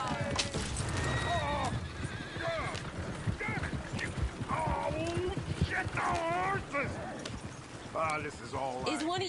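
Horses whinny and neigh repeatedly in the video game Red Dead Redemption 2, several shrill calls over clip-clopping hooves and a busy background, with voices talking.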